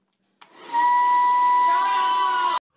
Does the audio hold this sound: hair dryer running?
yes